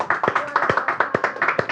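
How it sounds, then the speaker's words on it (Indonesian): A small group gives a short burst of hand clapping for a guest at an Indonesian talk-show event, quick uneven claps close to the mic for under two seconds. "Boleh minta tepuk tangannya buat Mas Suluh."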